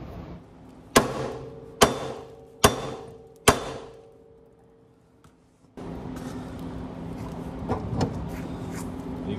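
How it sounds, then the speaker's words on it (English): Four loud, evenly spaced hammer blows ring out on the control arm of a 1990 Honda CRX Si to free the spindle, each with a short metallic ring, followed by a steady rushing noise. "we do have to bang on the side of the control arm to release the spindle"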